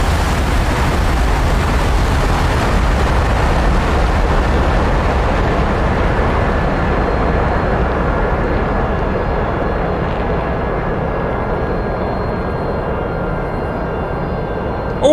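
Jet aircraft roar in a DCS World flight-simulator combat scene, as a Harrier passes: a loud, steady, broadband rush that fills the whole clip and thins slightly toward the end, with no speech.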